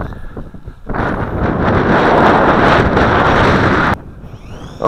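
Strong wind buffets the microphone on a flying FY326 quadcopter, a loud rushing roar that swells after a quieter start, holds steady for about three seconds, then drops off sharply.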